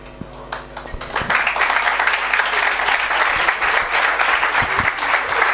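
Audience applause in a pub venue, starting with scattered claps and swelling into sustained, dense clapping from a crowd close by.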